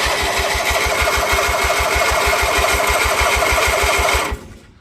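A Kohler KT17 engine on a Bolens 1700H tractor cranks and runs with a loud, close, evenly pulsing chug, then cuts off abruptly near the end.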